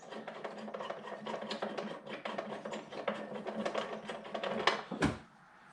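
Large white plastic nuts holding a Vauxhall Corsa D taillight are unscrewed by hand from inside the car, giving a close, rapid ratcheting scrape and rubbing, then a sharp knock as the work stops.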